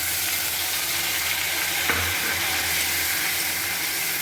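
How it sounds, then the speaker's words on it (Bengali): A ginger, garlic and onion paste fries in hot oil in a pan where fish has just been fried. It makes a loud, continuous close-up sizzle with a single brief clink partway through. "আদা রসুন পেঁয়াজের পেস্টটা দিয়ে দিলাম।"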